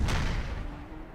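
Cannon fire in the video game Napoleon Total War: a dense, rumbling boom rolls out and fades over about a second, loud and continuous with no talk.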